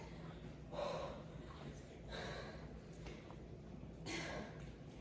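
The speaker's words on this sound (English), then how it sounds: "Why am I so out of breath?" Heavy breathing after exertion, three loud gasping breaths spaced a couple of seconds apart over a quiet low background hum.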